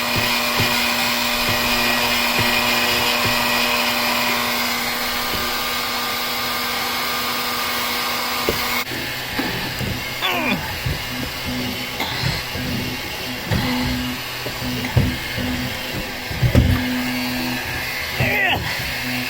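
A heat gun blows loud and steady while it warms a fresh water hose during a bus plumbing install. Partway through, its whine gives way to handling clatter, rustling and occasional talk.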